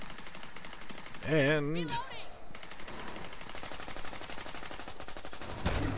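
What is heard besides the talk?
deployed turret firing in video game The Division 2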